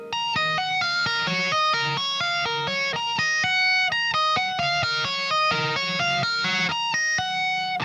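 Electric guitar riff from a song, played alone as a quick run of clean, bright picked notes with an effects-processed tone, repeating its pattern steadily over several bars.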